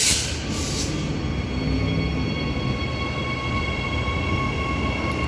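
Perth EMU electric trains depart Currambine station, a steady close rumble of rolling wagons with a sustained high whine over it and a brief louder burst at the start.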